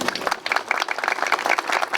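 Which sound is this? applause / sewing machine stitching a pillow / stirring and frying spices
applause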